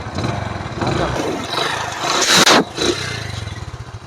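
A Hero Splendor Plus motorcycle engine, kick-start only, is kicked and fires up nearby, with clattering strokes, a brief rev and then a steady idle chug.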